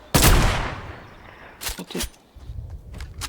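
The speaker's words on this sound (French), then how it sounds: "J'ai tiré la seule balle que j'avais." A single loud, close gunshot rings out in the Fortnite video game, then decays into a trailing echo, followed by several softer thumps and footstep-like sounds.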